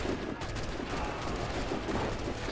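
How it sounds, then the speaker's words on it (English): Cannon fire booms during the Battle of Monmouth in Assassin's Creed 3, as troops are shelled. It comes as a dense, continuous barrage of loud blasts with no gaps. "You're just shooting a cannon at"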